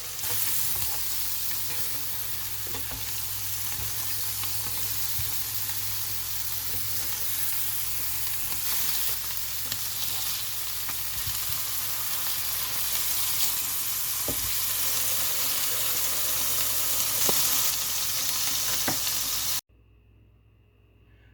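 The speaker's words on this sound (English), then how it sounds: "I'm going to go ahead and saute up these onions" Onions sauté in a pan in a home kitchen, a continuous close sizzle with occasional stirring scrapes and clicks running steadily for about twenty seconds before stopping abruptly.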